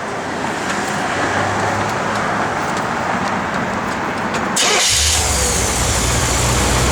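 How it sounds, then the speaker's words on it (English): A 1978 Chevrolet Corvette 25th Anniversary Pace Car cranks and fires about midway through, then settles into a loud, steady idle, with a constant background hum before the start and no talk. "Go ahead and have Jordy fire it up here."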